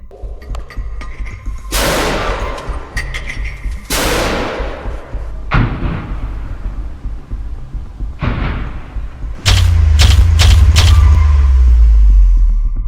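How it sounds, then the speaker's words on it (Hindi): Mortar rounds fired in a wartime attack on an IDF troop position in Gaza, heard as several heavy booming blasts at intervals, then a rapid cluster of sharp impacts followed by a deep rumbling roar. "ये मोर्टार आईडीएफ के जमावड़े वाली लोकेशन पर धड़ाधड़ बरसने लगते हैं"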